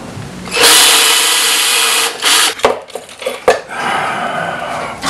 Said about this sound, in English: drill and mount this.